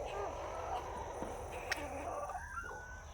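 Chicken clucking close by in a farmyard during morning feeding, a few short throaty calls over soft background noise and faint voices.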